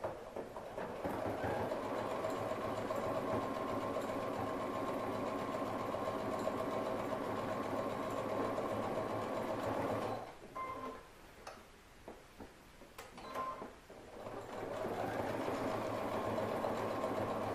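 A sewing machine stitching a pocket on a fabric triangle toiletry bag runs in a steady, even mechanical whir that stops and starts a few times partway through before resuming, close and moderately quiet.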